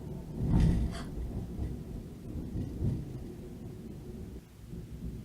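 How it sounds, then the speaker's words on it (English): A low rumble of thunder from an electrical storm outside swells early, then fades into a steady background of rain and distant rolling. "So there's an electrical storm going on outside right now."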